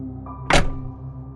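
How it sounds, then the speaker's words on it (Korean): A truck door slams shut outdoors at night near a run-down lookout, one sharp heavy thunk standing out briefly from a low steady background hum. "어디선가 트럭 문이 쾅 하고 닫히는 소리가 들렸습니다."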